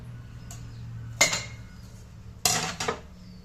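Dishes and pots being put away in a home kitchen: two sharp metallic clatters of pans and utensils set down, each followed by a brief ringing rattle, close and loud against a quiet background hum.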